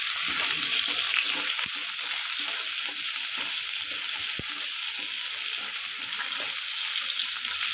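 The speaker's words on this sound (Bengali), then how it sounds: "যখন ভেজে নেব লাল লাল করে" Food frying in a pan with cabbage and rohu fish head until reddish, a loud, continuous close-up sizzle and hiss with faint stirring knocks throughout and no talking.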